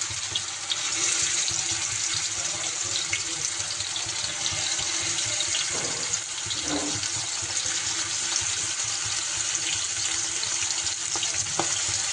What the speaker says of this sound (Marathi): आता मी बोटी फ्राय करत आहे